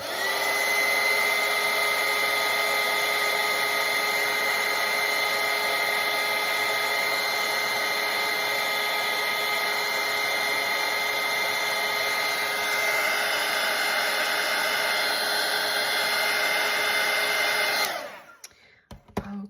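A hair dryer blows steadily and loudly at close range, drying red watercolour paint on paper for a continuous stretch before cutting off abruptly near the end, with no voices.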